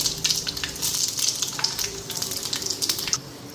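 Panch phoron whole spices fry in hot oil in a wok, giving a steady, fairly quiet crackling sizzle with small pops and spits throughout.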